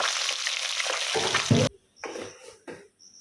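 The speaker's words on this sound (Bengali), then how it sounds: "তেলের মধ্যেই মাছটা দিয়ে দেবো" Fish lowered into hot oil sets off a loud, dense frying sizzle that runs steadily, then cuts out abruptly, followed by two shorter bursts of sizzling and stirring with brief quiet gaps between them.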